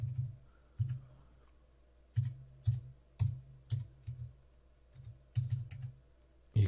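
A computer keyboard is tapped in short irregular bursts while working in Excel, crisp close clicks separated by brief pauses over a faint low hum, with no one talking.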